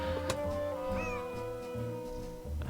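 A cat in the Nancy Drew: Secret of the Old Clock video game lets out a short rising meow over a steady musical background, mid-level and clear.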